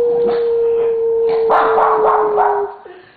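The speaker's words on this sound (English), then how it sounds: "Gonna get all barking from Pee-wee." A dog named Pee-wee, kept with other dogs including Presto, Aspen and Simba, gives a steady sustained high whine that breaks into several sharp, close barks before fading out.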